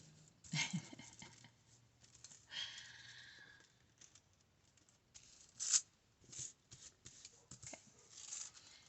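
Paper being creased and folded by hand to make an accordion-style tag, producing soft crinkles and rustles with a couple of sharper crackling presses, fairly faint and close, with no talking.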